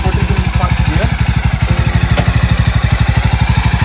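Jawa 42 motorcycle engine running in first gear on a stand, a steady, close, rapid thumping idle with even pulses throughout, speech faintly underneath.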